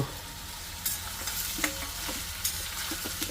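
Sliced ivy gourd sizzling in hot oil in a pan with green masala, a steady loud fry broken by a few scraping stirs of a spoon against the pan, close up and without speech.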